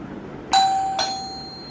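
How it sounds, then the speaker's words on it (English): An electronic doorbell chimes twice, two bright ding tones about half a second apart, each ringing on and slowly fading in a quiet room. "now let's come on our bell"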